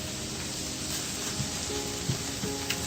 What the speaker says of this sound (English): the only reason why I'm sauteing it here is I just want to get rid of the bite of the garlic